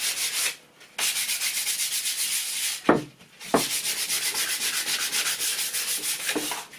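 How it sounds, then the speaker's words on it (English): Sandpaper rubs briskly over painted MDF board in loud, rhythmic back-and-forth strokes, close up with no talking, pausing briefly twice before resuming. "So we'll just give that a rub down."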